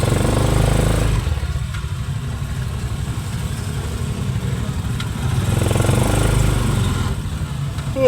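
Engine of a motorized tricycle in the Philippines, a steady mid-pitched putter running close by throughout, with a brief surge in the first second and a slight swell near the end.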